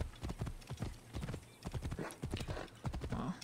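Galloping horse hooves from Assassin's Creed Origins, a steady rapid clip-clop rhythm close and continuous throughout, with no talk over it.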